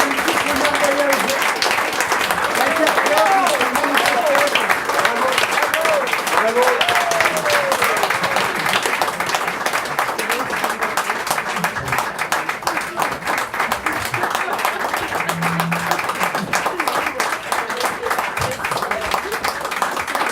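Sustained audience applause after a song performance, dense and steady throughout with scattered cheers and a shouted voice on top.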